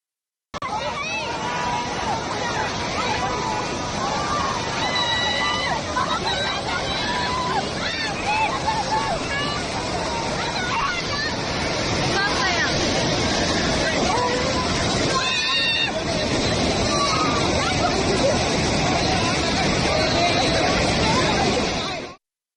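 Rushing flood water at Lonavala waterfall sweeping past a crowd of bathers, a steady loud surging roar with sloshing under constant babble of many voices, continuous for over twenty seconds.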